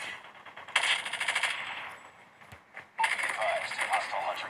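Rapid automatic M4 rifle fire in the mobile shooter game Call of Duty Mobile, two sustained bursts of dense, rattling shots separated by a short lull, loud and close.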